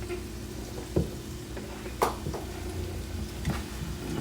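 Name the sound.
sauteing oxtail vegetables in a pan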